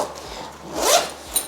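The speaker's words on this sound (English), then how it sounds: "Like that zipper is just like unreal." A YKK zipper on a Mystery Ranch backpack is pulled in a quick zip of about a second and a half, close and fairly loud, ending in a small snag, with no talking.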